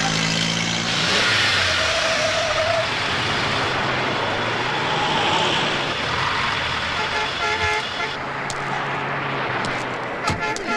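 A car pulls over in a film scene, with a steady engine rumble and road noise throughout, a horn toot, and the engine easing down near the end.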